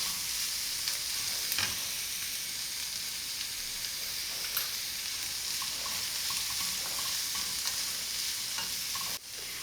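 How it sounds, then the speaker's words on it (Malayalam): Onions sautéing over a low flame in a pan for onion chutney, giving a steady, close sizzle and hiss throughout with faint stirring scrapes now and then. "നമ്മൾ ഫ്ലെയിം കുറച്ച് വെച്ചിട്ട് നന്നായിട്ട് വഴറ്റുക."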